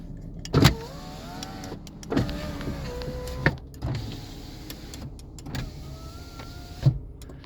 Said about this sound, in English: Front electric windows, like I was saying, which work.